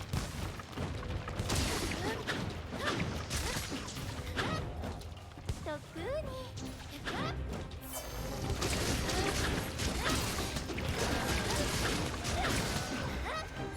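Dense, loud combat effects from Monster Hunter Rise as Bolt element weapon attacks land: repeated crashes, bursts and whooshing hits pile up continuously, with monster and action noise layered throughout.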